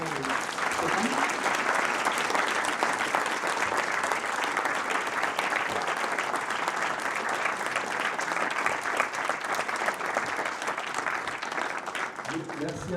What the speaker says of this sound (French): je pense qu'on peut applaudir très chaleureusement Stéphane